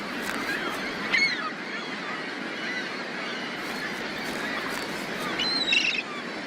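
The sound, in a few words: gull breeding colony calling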